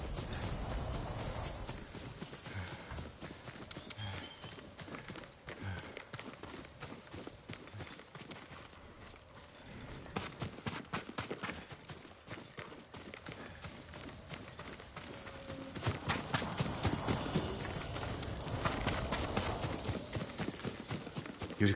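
Horse hooves clip-clop steadily through the game Ghost of Tsushima, a dense run of hoofbeats at a trot or gallop, fairly close and loud, swelling toward the end over a rustling outdoor backdrop.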